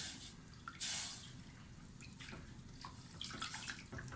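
Milk poured into a lasagne sauce while it is stirred, a soft liquid splash and gurgle with light stirring and scraping, close and gentle.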